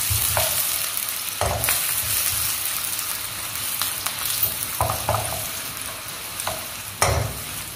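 A medium onion sautés in a pan for restaurant-style tomato chicken, giving a steady close frying hiss broken by repeated spoon stirs and scrapes every second or so.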